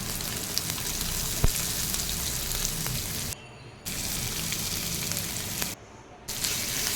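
Cut coconut frying in an iron pan for Kerala-style country chicken curry gives a steady, crackling sizzle that twice drops away briefly, with one sharp utensil tap; no talking.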